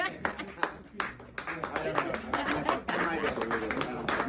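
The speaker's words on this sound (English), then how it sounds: "Golf clap." A small audience at a live show gives a light, scattered golf clap, with sparse individual claps mixed with voices and laughter.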